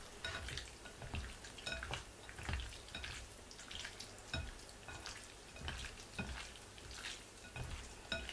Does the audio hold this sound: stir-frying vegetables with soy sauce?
yes